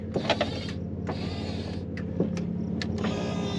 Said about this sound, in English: So power windows all the way over here.